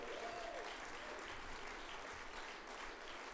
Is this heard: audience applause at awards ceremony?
yes